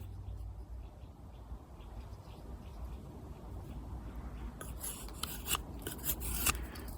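An Opinel No. 8 knife with its factory edge carves feathersticks from green hazel: soft, rasping shaving strokes, faint at first, then a denser run of scraping cuts close by.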